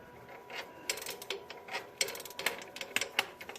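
Socket wrench ratcheting on the front differential axle actuator of a 2017 Chevrolet Colorado ZR2 4WD, a series of quick metallic clicks and ticks in uneven bursts, close and fairly quiet.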